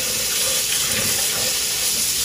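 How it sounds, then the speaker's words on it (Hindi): Cold water pours steadily over grated potatoes in a bowl, a continuous close, loud rushing hiss with no pauses and no talking. "इनके ऊपर दोबारा ठंडा पानी डालेंगे अच्छे से"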